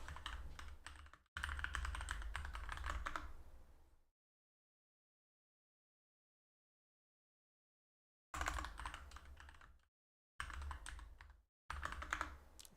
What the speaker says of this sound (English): I gotta type in my password.